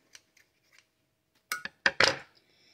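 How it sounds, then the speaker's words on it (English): Scissors trimming excess denim on a doll's dress: a few faint ticks, then three crisp, close snips in quick succession, the last one longest, with no talk. "Now we're going to trim the excess denim. Just a snip, snippity snip."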